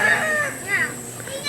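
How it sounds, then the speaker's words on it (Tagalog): Chickens cluck and crow close by on a rural farm where corn is being husked, short rising and falling calls repeating while someone talks over them. "Kaso lang man ay mga manok na sige pangaka."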